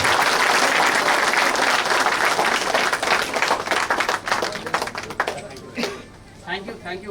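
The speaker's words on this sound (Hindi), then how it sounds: "एक जोरदार तालियां हो जाए हमारे स्वच्छता बजट के लिए" Loud crowd applause at a Swachhata Hi Seva cleanliness event at AIIMS New Delhi, dense clapping from many people that thins into scattered claps and fades over the last seconds.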